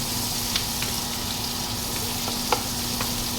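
White onion frying gently over low heat in olive oil and butter, a steady soft sizzle with a few faint crackles and stirring clicks, alone without talk.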